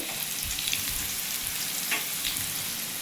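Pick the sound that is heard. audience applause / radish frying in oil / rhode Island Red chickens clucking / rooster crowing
radish frying in oil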